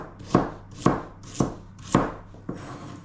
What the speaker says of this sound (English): I have 2 carrots that I'm cutting.